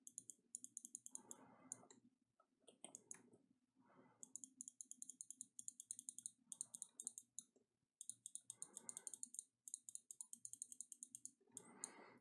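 Rapid computer mouse clicking, about six years old, in a gaming setup during a development stream for a Star Wars: Knights of the Old Republic mod: dense bursts of crisp clicks close to the mic, interrupted by brief pauses and low background noise.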